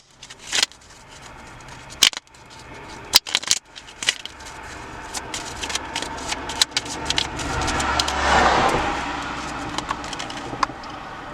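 Tarot cards shuffled by hand, with crisp riffling bursts and sharp snaps scattered through a low continuous rumble, rising into a denser flurry near the end.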